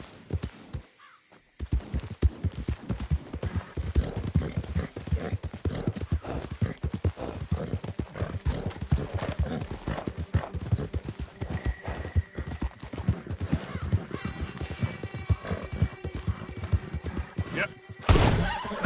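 A horse gallops in Red Dead Redemption 2 with a continuous, rapid hoofbeat rhythm that is loud and close. A few bird caws and a brief whinny rise above it near the end.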